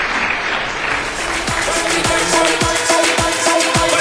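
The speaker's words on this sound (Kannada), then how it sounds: "ಎರಡೂ ತಂಡಗಳಿಗೂ ಕೂಡ ಬರಲಿ ಜೋರಾದಂತಹ ಚಪ್ಪಾಳೆ" A television dance competition audience claps loudly for two dance teams at a semi-final show, a dense sustained applause with a few low thumps and a faint musical tone underneath.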